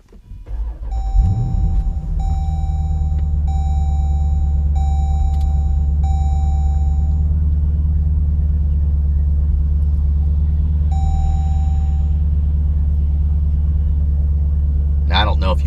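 A Jeep Grand Cherokee SRT engine idling steadily and close by, a faint rattle from a failing water pump under the low rumble, with repeated electronic chimes sounding early and again later.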